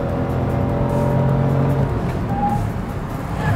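A Hyundai HB20 compact hatchback takes a road curve, its engine droning steadily and loud up close, with a brief high tonal note partway through and the sound easing slightly toward the end.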